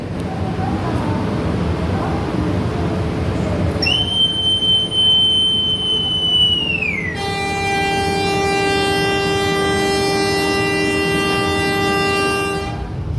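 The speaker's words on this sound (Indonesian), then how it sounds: "KA Belangbanga Express lah lepas stasiun Semarang Tawang Bangjateng" The Blambangan Express train departs Semarang Tawang station, a loud sustained horn blast sounding over rumbling rail noise, followed by a long steady tone near the track.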